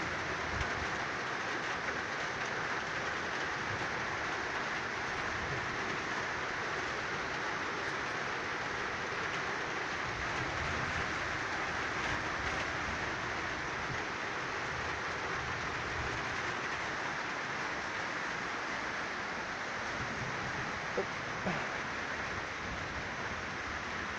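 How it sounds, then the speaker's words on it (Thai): Rain pours onto a leaky roof beside a cement-ring charcoal kiln, a constant loud roaring hiss with no pauses, steady throughout. "รู้สึกว่าหลังคาจะรั่วเนี่ยตอนนี้ฝนตก"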